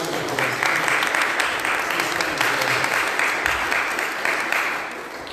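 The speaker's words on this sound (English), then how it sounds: "give her a round of applause" Sustained audience applause from a church congregation welcoming a young woman up to the front, dense and steady throughout before tapering slightly at the end, with a faint voice underneath.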